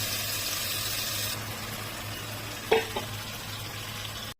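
Boiled dal goes into fried spices in a pan for Bengali dhaba-style egg tadka. A loud bright sizzle softens to a duller bubbling hiss, with a brief splashing clatter partway through, close and steady, and no talking.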